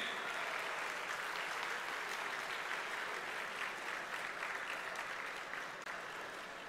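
A large audience at a convocation ceremony applauds steadily, a continuous crowd of clapping hands that holds for several seconds, fairly distant.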